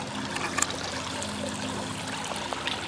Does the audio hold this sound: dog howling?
no